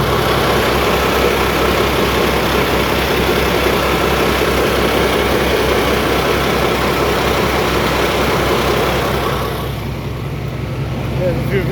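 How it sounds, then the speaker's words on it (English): Maybach diesel engine of the Western class diesel locomotive D1015 Western Champion on the Mid Hants Railway, a loud, steady low throbbing drone that holds for the whole stretch before easing slightly near the end. "we shall have another listen to that lovely Maybach engine."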